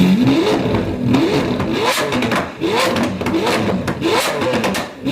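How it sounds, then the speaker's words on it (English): Lamborghini at an open-shop car meet in Van Nuys, California, revving hard again and again, its loud exhaust rising and falling in a repeated pattern of roaring blips close by. "Here the amazing exhaust with Lamborghini"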